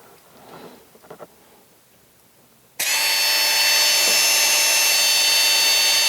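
A Makita XMU04 grass shear motor, wired directly to a Makita battery, switches on after a few quiet seconds of faint handling noise and runs with a loud, steady, high whine.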